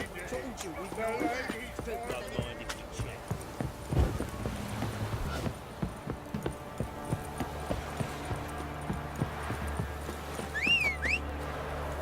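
Horse hooves clip-clop steadily along in The Witcher 3 game world, a continuous trotting rhythm with occasional whinnies, heard under game dialogue and ambient music.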